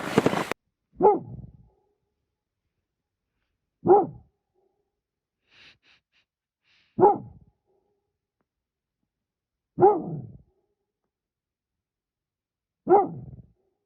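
A dog barks five times, single loud barks spaced evenly a few seconds apart, with quiet stillness between them.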